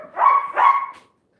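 A dog barks twice in quick succession, loud and close, short sharp woofs ending abruptly.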